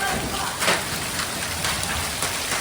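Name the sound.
rain and hail on roof tiles during a thunderstorm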